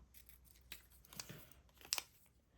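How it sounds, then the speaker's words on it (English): Scissors cutting pieces out by hand for a fabric journal tag pocket make a few soft, close snips and crinkles, faint and spaced irregularly. "So I'm just gonna cut these out."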